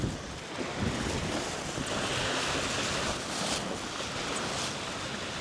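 Waves wash onto an iguana beach in the Bahamas, a continuous broadband surf rush with wind buffeting the microphone, steady and fairly loud throughout, no voices.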